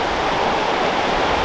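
River in the Great Smoky Mountains, its water rushing in a steady, loud broadband wash close by, with no breaks and no voices.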